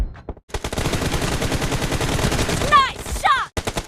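Rapid bursts of automatic gunfire from a BGMI match fill the clip, loud and dense, with game voice lines and effect sounds cutting in near the end.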